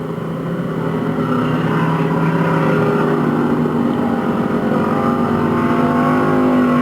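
Race cars running a heat on a slippery track, a steady, loud, continuous engine roar blending several motors, close and unbroken, with no voices heard.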